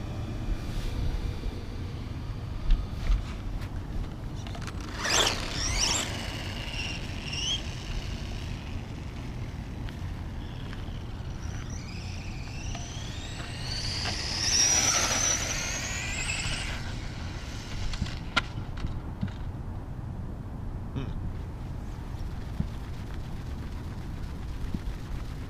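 Tamiya Grasshopper RC car running laps in a parking lot, a steady buzzing electric motor whine with rising and falling passes, louder sweeps around 5 and 15 seconds, over constant outdoor background noise.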